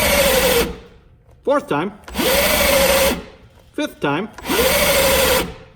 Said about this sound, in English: That might be the drill overheating too